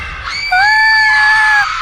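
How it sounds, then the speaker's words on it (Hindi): A woman's loud, sustained scream, rising sharply and holding for about a second before breaking off, close and alone as part of a horror story. "प्रियांशी जोर से चिल्लाई और उसकी चीख सुनकर बगल वाले कमरे में सो रहे उसके मम्मी पापा दौड़कर वहां आए"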